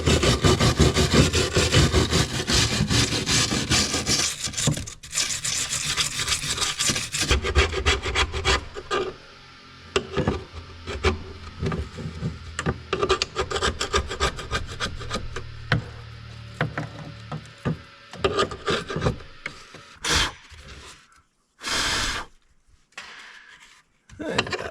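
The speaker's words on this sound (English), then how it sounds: "I'll just get my wire brush, clean this up a little bit" A wire brush scrubs hard and continuously at old gasket material on a K100E foot valve, a loud, close, rasping scrape that later breaks into shorter bursts with brief pauses.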